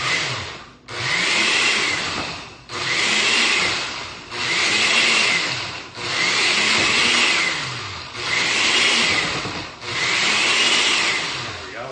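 A blender pulses in six bursts of roughly two seconds each, grinding peas into a chunky mash. Each burst whirs up loudly and then cuts off briefly, with no talk.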